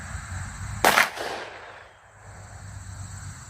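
An FN 510 10mm pistol fires once, giving a single loud, sharp crack that quickly fades into an open-air decay, followed by steady low ambient noise.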